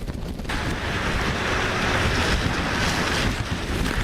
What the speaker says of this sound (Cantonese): 喺西環大浪拍岸